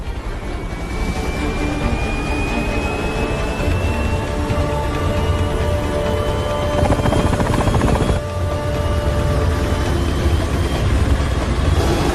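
A helicopter runs loud and steady from start to finish as if lifting off, its rotor thrum and turbine whine holding even with a faint rising tone, no voices over it.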